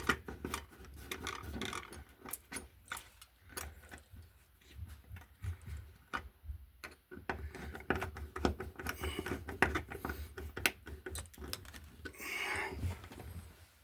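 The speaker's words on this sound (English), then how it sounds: "we will tighten our ground screw up" A screwdriver tightens the ground screw on a grounded metal outlet box while wiring a three-prong outlet, giving a close series of small clicking, ratcheting scrapes and taps that come in irregular bursts, with no talking.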